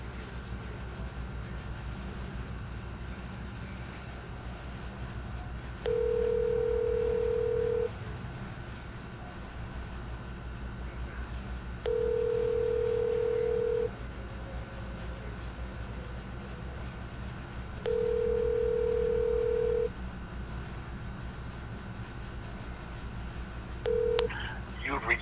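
Phone call ringing back, a steady outbound ring tone repeating four times at even intervals, each burst about two seconds long, over a low hum and quiet background.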